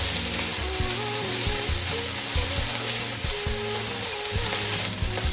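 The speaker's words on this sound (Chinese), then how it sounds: "放入蒜头炒香" Garlic stir-frying in a pan, a steady loud sizzle with the clatter of stirring throughout, no voices.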